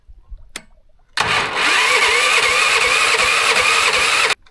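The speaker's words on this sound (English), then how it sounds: "the mud motor, the Predator engine is doing really well. I don't know why. Let me try it right here. I don't know why it's not wanting to start." A Predator engine on a mud motor cranks without catching. After a brief click comes a loud, steady mechanical whir for about three seconds that then cuts off abruptly.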